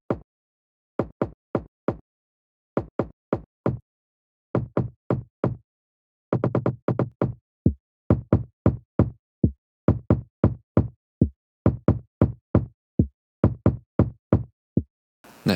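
Layered kick drums built for a copy of a song thump in a steady repeating pattern, with punchy low hits, a denser cluster partway through, then the full stacked layers continuing.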